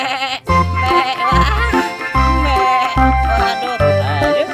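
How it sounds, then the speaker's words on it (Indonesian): Goats bleating in a park, a series of four or five loud, close, wavering bleats in quick succession, each a strong harmonic cry with a steady rhythm. "Wah, ini ada kambing."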